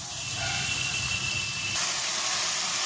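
Spice paste for lote fish fries in a pan with a little water, giving a loud continuous hiss and steamy sizzle, a faint tonal whistle fading partway as the texture roughens; no voices.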